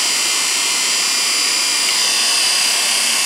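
A motor shaft spins at high RPM in a rotary transformer torque test, giving a steady, loud, high whine with a broad airy hiss, unbroken throughout.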